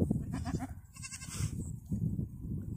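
Goats bleat on a farm with a small herd of does and a valuable buck, several wavering calls in quick succession, fairly close over a background of rustling and livestock movement.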